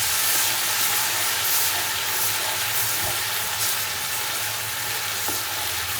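Ginger sizzles steadily in hot oil in a pan while browning to a light golden colour for a mutton korma, a dense, continuous frying hiss heard up close with no talking.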